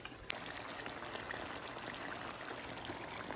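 A cornstarch thickener is poured into simmering pork chop sauce in a home kitchen, making a faint, steady liquid trickle and splash after a single small clink at the start.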